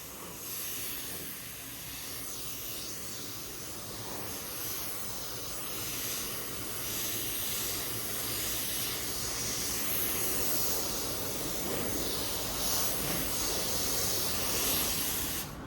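Compressed air blasts steadily from an opened-up paint gun passed over a car panel, a continuous close hiss that holds level and swells slightly toward the end, with no voices.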